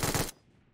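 Rapid burst of automatic fire from a 7.62 rifle in PUBG Mobile, loud and close, a dense rattle lasting about a third of a second before cutting off into a fading tail.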